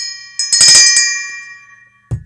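A small claw bell rings with a bright metallic ding, one struck tone that rings out and fades slowly, followed by a short low knock at the end.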